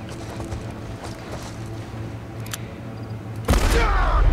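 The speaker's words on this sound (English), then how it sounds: "Ooh, shotgun." A loud, close shotgun blast in The Last of Us erupts suddenly near the end, following several seconds of low rumbling game ambience.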